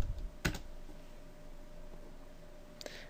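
A few brisk taps on a computer keyboard, close and fairly quiet, come in a short burst at the start and then a single keystroke near the end, with low room hiss between them.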